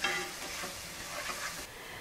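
Minced garlic and onions cook in a pan for a broccoli, rice and cheese casserole, giving a steady close sizzle with soft stirring scrapes throughout and no voices.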